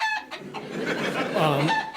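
Chickens cluck close by in a corner indoors, a brief run of clucks and squawks over about two seconds.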